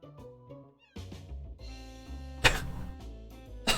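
A cat meows several times in short, tonal calls, close and fairly loud, with a sharper, brighter cry partway through and another at the very end.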